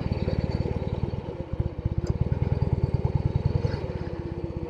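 Vintage Norton Atlas 750 motorcycle ridden on the road in fourth gear, its engine thumping in a fast, steady pulse close up and loud throughout, with no talk.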